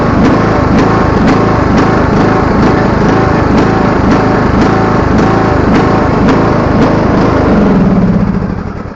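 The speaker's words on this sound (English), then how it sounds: "It still runs and cuts fine, but you can tell it's surging," A John Deere D105 lawn tractor engine with a suspected carburetor fault runs loud and close, its steady drone surging and hunting in a rhythmic rise and fall, then easing off at the very end.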